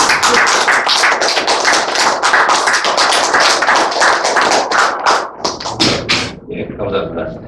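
An audience at a forum's opening ceremony applauds to welcome a guest chairman, with dense, loud, close clapping for about six seconds that then thins out into scattered claps.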